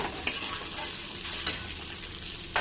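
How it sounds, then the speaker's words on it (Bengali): Vegetables and cooked rice for fried rice are tossed in a hot pan, a steady sizzle with three sharp scraping strokes of the spoon, close and fairly loud. "এবার ভালো করে নাড়াচাড়া করে নেব।"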